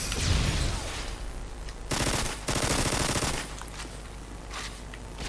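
A TMP submachine gun fires in Modern Warfare 2 multiplayer, loud rapid automatic bursts with a rattling, buzzing texture, one long burst standing out in the middle among other gunfire and game noise.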